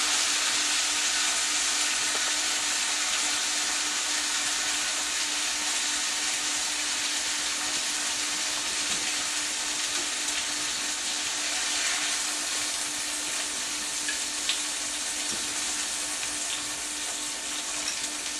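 Chicken breasts fry in hot olive oil in a pan, a steady, loud, dense sizzle and crackle that runs unbroken from start to finish with no voices.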